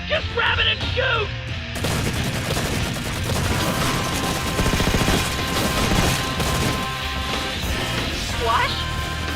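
Rapid bursts of automatic gunfire and impact crashes from Red vs Blue, a Halo machinima, fill the scene at high intensity, with shouted voices at the start and near the end over continuous combat noise.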